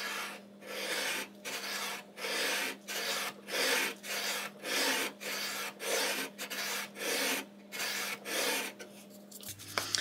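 A Lee Valley cast scratch stock scrapes a bead into wood in about a dozen regular rasping strokes, each a dry, close scratching pass with short pauses between, and no voices.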